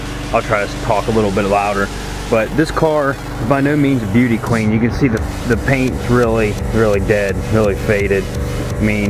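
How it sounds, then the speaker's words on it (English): A neighbor's power washer drones steadily in the background on a street while someone talks loudly and continuously over it, close to the microphone. "The neighbors over here power washing."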